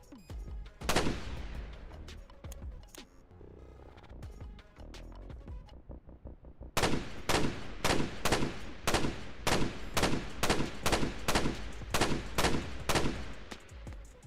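Weapons fire in an Unreal Engine 5 gladiator action RPG: scattered single shots at first, then a steady rapid run of loud automatic bursts, close and punchy.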